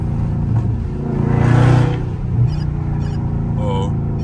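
A loud Scat Pack car engine revs and swells to a peak before settling into a rough idle in traffic, with some faint background noise.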